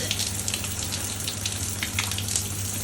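Indoor shower spray running steadily onto a floor while parrots bathe under it, a continuous hiss of falling water with faint bright splashes and a low hum beneath.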